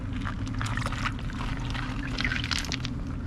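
Water pours and trickles through a channel at an outdoor dig site, a steady rushing splash with bursts of bubbling, close and continuous, with no voices.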